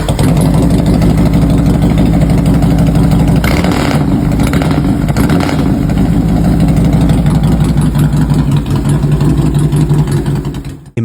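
A 2001 Harley-Davidson Fat Boy, rebuilt after a full mechanical overhaul, idles steadily with a loud, deep, lumpy V-twin rumble held close and continuous, with a few slight throttle swells and no voices.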